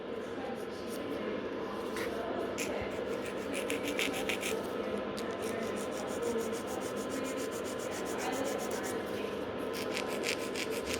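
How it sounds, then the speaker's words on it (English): A nail file scrapes the natural nail plate in long strokes, a soft, close, continuous rasping with rhythmic bursts of scratching. "And I'm trying to do pretty long file movement, like this way I kind of reach a bigger surface."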